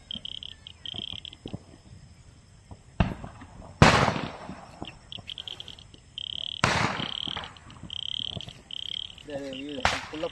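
A few sharp Diwali firecracker bangs burst out at intervals over a night backdrop of croaking frogs and chirping insects, with some talking in between.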